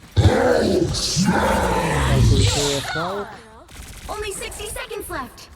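Rapid bursts of gunfire in Marvel Rivals crackle amid roars and grunts, with someone talking excitedly in Ukrainian over much of the action.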